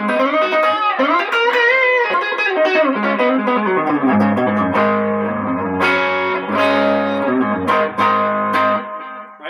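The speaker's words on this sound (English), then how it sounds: "And when you go on the neck pickup, it's very bluesy." Electric guitar on the neck pickup through an overdrive pedal, a warm, bluesy tone with moderate gain, playing bending single-note lines and then ringing chords that sustain, loud and close with no talking.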